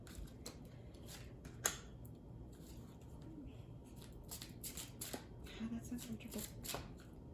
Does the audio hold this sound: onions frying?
no